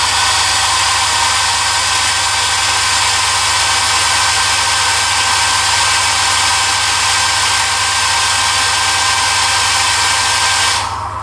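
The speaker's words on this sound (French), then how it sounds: "je vais mettre un coup de sèche-cheveux" A hair dryer blows with a loud, steady whirring hum close by, running continuously before cutting off right at the end, no voices.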